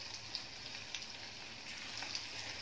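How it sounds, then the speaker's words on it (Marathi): Small spinach pakoras (bhaji) frying in reheated oil give off a steady, soft, hissing sizzle with faint crackles and pops, close but quiet, with no voices. "तेल जरा थंड झालेलं असतं, आणि पुन्हा ही भजी टाकून घेणार आहे"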